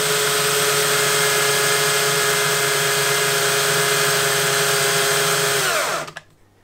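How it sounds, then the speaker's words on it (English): A starter motor spins a Jerry Howell model V-twin internal combustion engine, giving a loud, steady high-pitched mechanical whine that holds for about six seconds, then winds down and stops abruptly. "I know it's running fast enough to start the engine"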